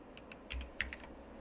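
Someone types on a computer keyboard in a quick burst of several crisp, close key clicks, with no talking.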